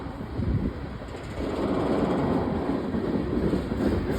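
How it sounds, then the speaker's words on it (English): Norfolk Southern freight cars rumble by in Greensboro, a dense continuous rolling roar that swells after the first second and stays steady, near and loud, with no talking. "this is a Norfolk Southern freight train in Greensboro"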